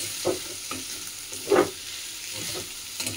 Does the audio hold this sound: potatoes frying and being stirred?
yes